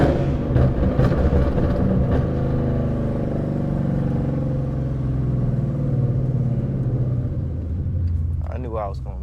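Deep exhaust rumble of a Ford Mustang GT with loud headers, close and continuous, rising and falling while driving, with someone talking over it.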